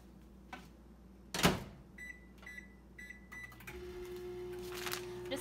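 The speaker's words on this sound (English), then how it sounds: "I'm going to pop it into the microwave" A microwave oven hums steadily, with a few short electronic beeps and a door clunk beforehand.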